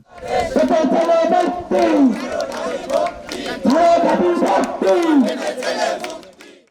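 Protesting university students chant slogans in unison at a railway blockade in Bangladesh. A lead voice calls out each line and the crowd answers loudly in rhythmic, repeated phrases.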